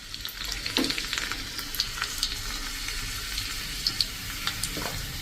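Red chili powder crackling in hot oil for a tadka over spinach and besan gatta curry, a steady close sizzle with scattered sharp pops and spits throughout, no voices.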